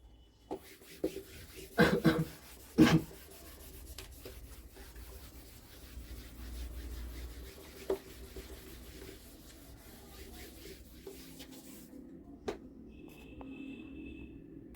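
Chalk writes a matrix example on a board during a class 12 maths lesson, with quiet scratching strokes and a few sharp taps, loudest early on, then sparse and faint in a hushed room.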